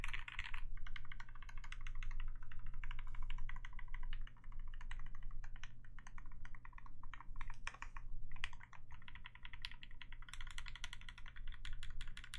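Fast, steady typing on a Space65 keyboard with Cherry MX Vintage Black switches and Gateron blank keycaps, a close, dense run of clacks and thocks broken by brief pauses, with no talking.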